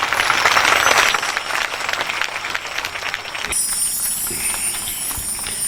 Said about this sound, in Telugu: చప్పట్లు కొట్టాలంతా.